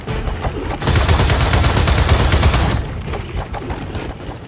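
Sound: turret gunfire in the video game Gears of War 4

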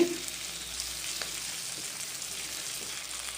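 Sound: small fish frying in a pan

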